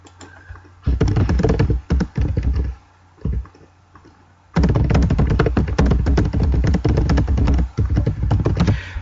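Fast typing on a computer keyboard sounds up close in dense bursts of crisp clicks, broken by a short pause and a few isolated taps before a long final run, with no talking.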